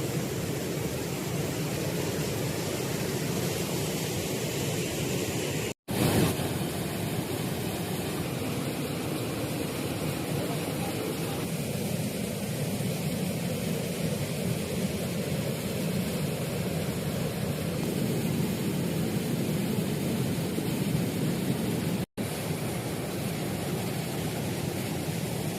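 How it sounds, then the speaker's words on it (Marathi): Ojhar waterfall near Borgaon in Surgana pours as a dense, unbroken roar of rushing water, loud and close, cut by two brief dropouts. "हा जो धबधबा आहे हा ओझराचा धबधबा आहे"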